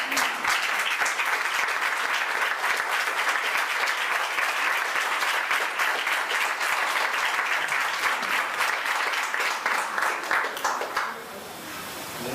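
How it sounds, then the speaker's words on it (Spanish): A church congregation applauds steadily and loudly for about eleven seconds, dense clapping filling the room before it thins and fades near the end. "Aplaudan al Señor."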